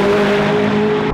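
A McLaren 675LT supercar engine roars steadily through titanium exhausts, a loud, raw, continuous drone held at constant revs, then cut off abruptly at the end.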